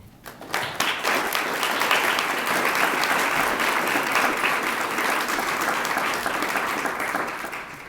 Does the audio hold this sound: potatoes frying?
no